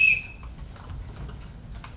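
A single short, sharp whistle blast at the start summons a household in a stage production, then only quiet room noise remains.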